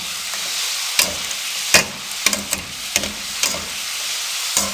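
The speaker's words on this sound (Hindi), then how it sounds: "अब हाई फ्लेम पे 40 सेकंड इनको हम फ्राई करेंगे" Potato chips fry in cooking oil over a high flame, with a bright continuous sizzle broken by several sharp clatters and scrapes as they are stirred, loud and close.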